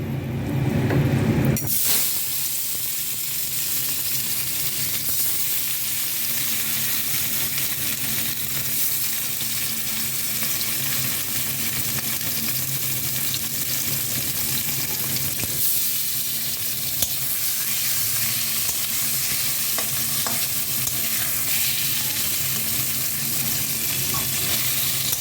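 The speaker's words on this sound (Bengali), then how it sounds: "এবার মাছগুলি ভালো করে ভেজে নেব।" Fish fry in hot oil in a wok with a loud, steady sizzle that bursts in after a brief quiet start and crackles continuously up close for the rest of the stretch.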